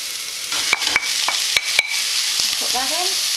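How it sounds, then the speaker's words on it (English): Beef mince, then pork, hits a hot pan for lasagna and sizzles loudly and steadily, with sharp clatters of a utensil scraping and stirring throughout, close and alone without talk. "Now I'm going to add the mince."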